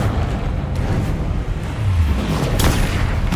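A deep, rumbling blast from the Bombarda explosion spell in Hogwarts Legacy, a low booming surge with a sharp burst near the end, loud and close with no talking.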